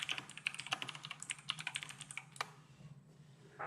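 Fast, steady typing on a Razer RGB computer keyboard, crisp key clicks at close range in a rapid uneven rhythm that slows and stops near the end, with no talking.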